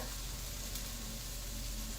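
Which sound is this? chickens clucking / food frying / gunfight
food frying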